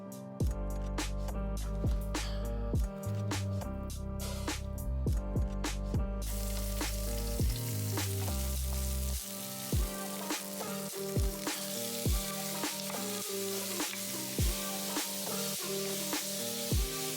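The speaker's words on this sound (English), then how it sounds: "right now I am making fried potatoes and onions" Potatoes and onions frying in a pan, a constant dense sizzle with irregular sharper pops and crackles throughout, close and steady with no talk.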